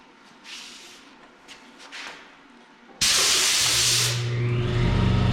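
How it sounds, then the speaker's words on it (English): An air compressor starts abruptly after some quiet shuffling in a workshop during an Oliver 1855 tractor restoration, then runs with loud, steady hissing and a low motor hum, close by and without voices. "And there's the air compressor."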